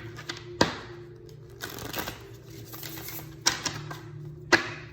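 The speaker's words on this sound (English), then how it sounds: "let's put some more animal spirit cards here" Animal spirit cards laid out on a table, soft papery slides and shuffles broken by a few sharp taps as cards land, quiet and close with no talking.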